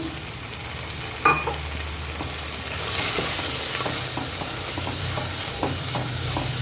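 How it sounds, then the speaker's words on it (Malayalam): Kashmiri chili, coriander and turmeric powder stirred into sautéed tomatoes in a pan, a continuous close sizzle broken by repeated spoon scrapes and clinks, with one sharp knock early on. "തക്കാളി നന്നായി വഴന്ന് വരുന്ന സമയത്ത് നമ്മൾ എടുത്തു വെച്ചിരിക്കുന്ന കാശ്മീരി മുളക് പൊടി മല്ലിപ്പൊടി മഞ്ഞൾപ്പൊടിയും കൂടി ചേർത്ത് കൊടുക്കുന്നു"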